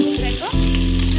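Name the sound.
chicken sizzling in an oiled pan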